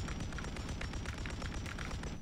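Rapid bursts of enemy gunfire in Call of Duty Warzone, a dense rattling volley of shots and booms, fairly quiet and continuous without talk.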